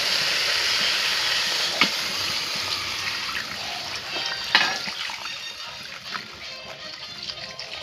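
Water rushing and hissing steadily into a hot cooking pot of fried potatoes, loud and close, with a few clinks and knocks along the way.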